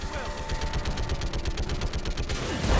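Rapid bursts of automatic gunfire from a Mass Effect 3 firefight, a dense, steady stream of shots packed with sustained loud crackle and thump, continuing without pause to the end.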